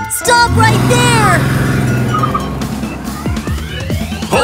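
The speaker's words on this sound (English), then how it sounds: "Blue police car running wee woo wee woo, running really fast to catch a donut thief" A siren-like sweeping tone from a blue police car plays in a children's cartoon song, loud and upfront amid music and sung voices.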